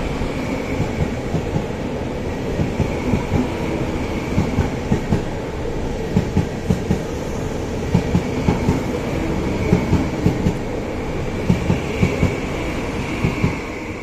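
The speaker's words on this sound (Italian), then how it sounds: "Transito al binario 9. Allontanarsi dalla linea gialla." A train runs through platform 9 of Firenze Rifredi station on a July afternoon, a steady loud rumble with regular clickety-clack wheel beats over the rail joints from start to finish.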